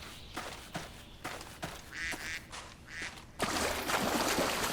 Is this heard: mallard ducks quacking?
yes